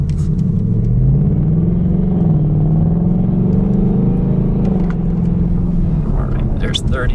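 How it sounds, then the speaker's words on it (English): A new Volkswagen Golf R and a new Ford Mustang run side by side in a drag race from a rolling start, with a loud, steady engine rumble whose pitch rises and dips as the throttle changes. Voices are heard over it. "we get on the throttle usually semi-aggressively so that we can try to be at 30 miles per hour a ways before the line"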